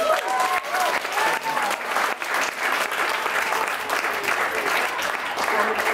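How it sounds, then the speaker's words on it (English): An audience at a special school event applauds with steady, dense clapping that carries on throughout at moderate loudness. "Give yourself a round of applause."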